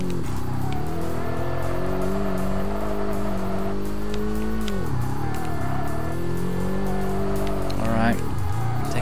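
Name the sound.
race car driving fast in the video game Kaido Racer 2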